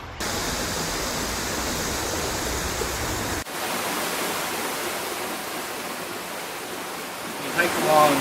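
The Mill River flows beside a hiking trail in Sleeping Giant State Park, a steady broadband rush of moving water heard up close, cutting briefly partway through before continuing.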